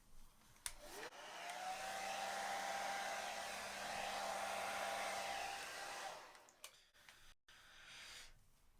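A hair dryer blows across poured acrylic paint in a Dutch pour, rising into a loud, steady whoosh for about five seconds. It then cuts off, leaving a few soft clicks and handling noises nearby.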